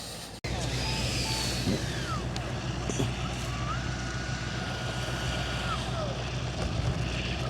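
An E-flite 90mm Viper RC electric ducted-fan jet winds down on the ground after landing at a model airfield, with a whining tone that slides and fades, a sharp knock at the start and faint beeps.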